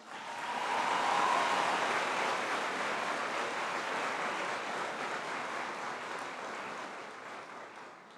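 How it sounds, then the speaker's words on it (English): An audience at a university engineering and law graduation ceremony claps in a steady, dense wash of applause that swells early and slowly tapers off. "I think that deserves a round of applause"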